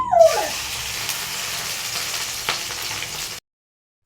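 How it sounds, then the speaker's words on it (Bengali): Dried kachki fish fries in oil with a loud, close, continuous sizzle that swells briefly at the start, then holds steady before cutting off abruptly into silence. "তাই আজকে শুটকি কাসকি মাছ রান্না করে ভেজে নেই।"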